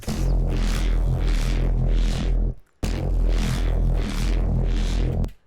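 A gritty, growling neuro drum-and-bass bass patch made in the Vital synth pulses in a repeating wobble pattern, loud and alone, cutting off briefly before the same phrase returns.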